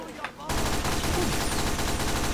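Continuous rapid gunfire in Team Fortress 2, a dense barrage that starts abruptly after a brief quieter moment and keeps going loud, with some voice faintly mixed under it.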